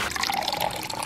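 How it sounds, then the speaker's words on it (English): Water poured into a bowl of baking mix, a short, steady splashing trickle at close range, fairly quiet and heard on its own. "Just pour the water in."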